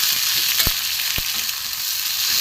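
Egg and potato filling sautéing in a pan, a steady close frying hiss with two sharp scrape or stir knocks from a utensil, no talk.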